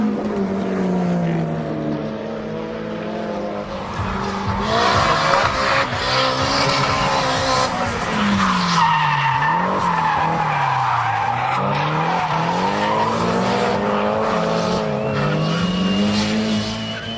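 S14 200SX drift car with an S15 nose conversion skidding at a Drift Nats round, loud sustained tire squeal over a revving engine whose pitch sweeps up and down, continuous and close.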